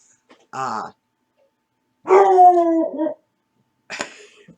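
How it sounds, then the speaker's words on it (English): A dog barks and howls at a trash truck passing outside, giving a short bark, then a long drawn-out howling bark and a final sharp yip, loud and close in an otherwise quiet room. "sorry, trash truck, so the dog's gonna go off."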